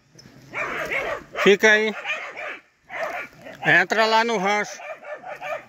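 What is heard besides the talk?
dog barking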